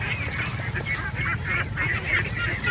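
Free-range ducks in a former rice paddy honk and quack continuously as a flock at close to moderate distance, with a low rumbling background beneath them.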